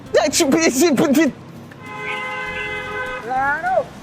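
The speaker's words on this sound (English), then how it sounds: "The people in this city just honk their horns all the time for no fucking reason." Car horns honk in city traffic, a sustained toot followed by a second bending horn blast, after a stretch of loud close talking.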